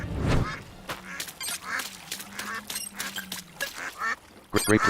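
Ducks quack and honk repeatedly at a duck pond in the video game A Hero's Call, a busy overlapping chorus of calls at moderate volume, with a faint low tone running underneath.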